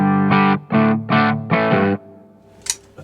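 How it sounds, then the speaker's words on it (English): A Fano Omnis MG6 electric guitar with P90 pickups plays a clean tone, a handful of rhythmic strummed chords ringing out, then a faint decay and a brief squeak of fingers on strings. "let's try this guitar, P90s, which is my Fano Omnis MG6, which is a really cool guitar and clean."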